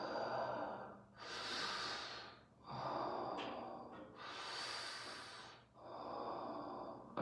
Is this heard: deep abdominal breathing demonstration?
yes